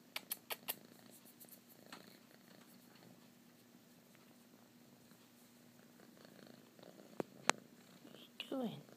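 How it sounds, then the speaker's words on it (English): A pet cat purrs loudly and continuously up close, a low rumbling drone beneath occasional clicks and rustles, with a person talking softly near the end. "That's a pretty loud purr, mister."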